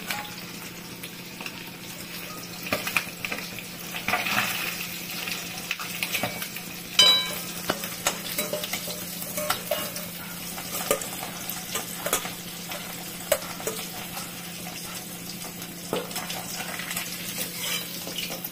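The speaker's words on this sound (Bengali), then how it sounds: "তেলে আমি বেগুনটা ভেজে নিই" Steady crackling sizzle of eggplant frying in hot oil, with occasional clinks and stirring sounds, no voices.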